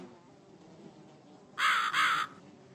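Two harsh caws from a crow in the video game The Cat Lady, loud and close, standing out over a faint, murky ambient background.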